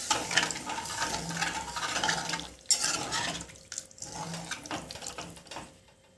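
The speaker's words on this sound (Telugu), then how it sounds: "వాటర్ పోసి కలపాలి బాగా." Water is poured into a pan of goat liver curry and stirred: a steady splashing pour with clinks and scrapes of a ladle, moderately loud and close, with no voices.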